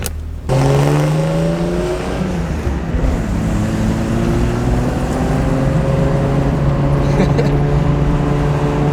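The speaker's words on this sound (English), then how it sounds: "we're gonna cruise in the Supra" An older Toyota Supra heard from inside the cabin while cruising, a loud, steady engine drone with rising and falling rev tones under the muffled road rumble, continuous throughout.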